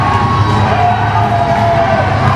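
A large arena crowd at a UCW-Zero wrestling show roars a sustained ovation for wrestler Derek Janetti, loud and continuous cheering with whoops and yells throughout.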